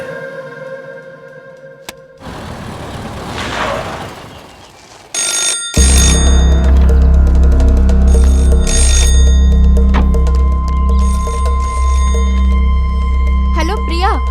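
A telephone bell rings loudly in a dramatic film scene, its bright, repeated ringing set against a thick, continuous soundtrack with voices and music.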